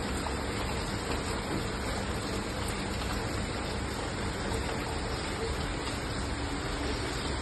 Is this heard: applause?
no